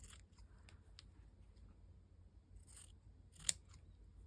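Scissors trimming paper for a shabby chic junk journal page in an altered book, a few quiet snips spread out with one sharper, louder cut near the end.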